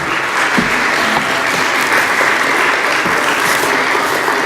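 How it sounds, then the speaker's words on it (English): Loud, sustained applause from an audience at a history-themed evening event, a dense wash of clapping filling the whole stretch at steady volume with no talk over it. "I think they all deserve a big round of applause."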